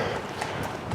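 A horse carrying a rider clip-clops along at a walk on a path near Gawthorpe Hall in the Calder Valley, its hoofbeats faint and quick over outdoor background noise.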